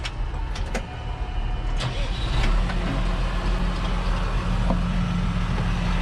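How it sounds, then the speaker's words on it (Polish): A car engine runs steadily at idle, a low continuous rumble with a few faint clicks and knocks near the start. "palimy silnik"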